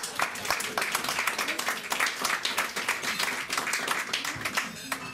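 A banquet audience at an Evening in Haiti gala applauds steadily, many hands clapping in a dense, even wash at moderate volume from start to finish.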